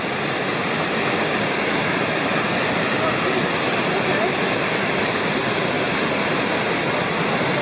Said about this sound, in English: You can hear the falls.